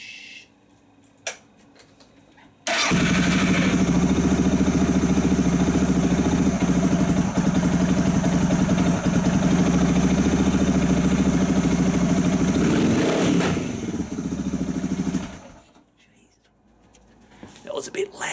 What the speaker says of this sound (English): Now I'm going to be really, really naughty and start up this bike.